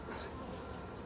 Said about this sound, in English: I shake it outside the box to get the bees off of it